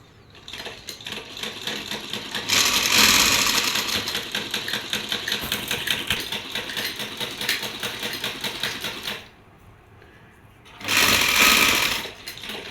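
A sewing machine stitches lace onto a fabric edge, running loud and close in rapid, even bursts, stopping for a short quiet gap, then racing again briefly.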